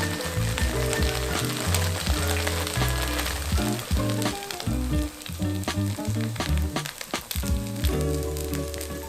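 Vegan buns made from dumpling wrappers pan-fry with sesame seeds sprinkled on top, a steady loud sizzle running throughout, though it sits under a prominent layer of background music.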